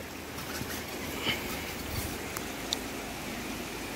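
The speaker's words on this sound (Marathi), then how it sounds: "तिकडनं नळ चालू केलो की पाणी चालू होता" Tap water runs from a pipeline outlet for washing hands and feet at a Konkan village temple. A steady, even rush of flowing water continues throughout at moderate level, with a few faint knocks.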